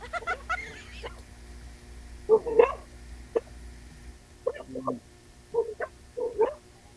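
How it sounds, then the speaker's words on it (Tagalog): A dog barks in short, separate bursts at irregular intervals, moderately close against a quiet background hum. "kung ayaw po tumigil ng aso kakatahol"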